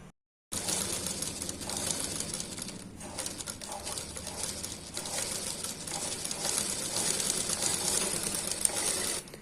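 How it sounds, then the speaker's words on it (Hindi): A sewing machine runs a half-inch seam along a closed-neck blouse collar, producing a steady, close, continuous mechanical whir that starts after a brief silence and carries on without pause. "फिर 1/2 इंच सिलाई लगाते हुए आप यहां तक आ जाएंगे"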